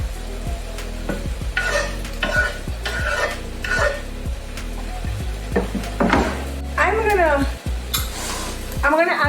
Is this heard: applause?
no